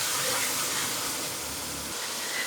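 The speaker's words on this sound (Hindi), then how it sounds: "इनको तकरीबन 1 से 2 मिनट के लिए प्याज के अंदर भुनेंगे" Tomatoes fry with onions in a pan, giving a steady close broadband hiss of frying that holds evenly throughout, with no talking.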